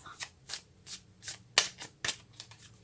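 Tarot cards being shuffled by hand, with about ten crisp riffling bursts in quick irregular rhythm, close and fairly quiet, with no talk.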